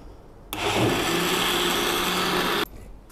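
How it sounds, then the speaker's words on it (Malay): A blender grinds rice flour and yeast batter, switching on abruptly into a loud, steady whirring roar that holds for about two seconds, then cuts off sharply, close by with no talk. "tepung beras dan yeast kisar hingga semuanya tergaul"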